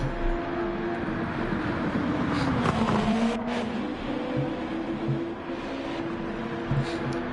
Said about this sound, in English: You want to be able to hear the engine of the cars